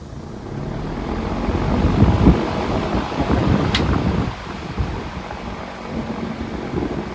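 Steady broadband whir of a running vintage Emerson box fan, with a faint rumbling wobble and a brief high whine partway through.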